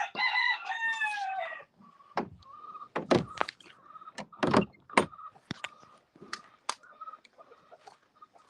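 A rooster crows near and loud at the start, a ringing harmonic call lasting over a second, followed by scattered knocks and clatters from a gate or door and faint clucking.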